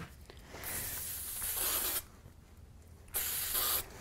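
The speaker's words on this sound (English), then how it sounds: "I'm just going to use a little spray glue on that." Spray glue hisses from an aerosol can onto a small paper sentiment for a handmade card, in two close bursts, a long one followed by a shorter one after a pause.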